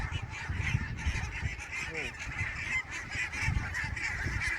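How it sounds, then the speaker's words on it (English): A flock of birds by the sea gives a stream of loud, goose-like honks while taking off, repeated calls overlapping close by and carrying on throughout. "The birds just took off in a perfect circle."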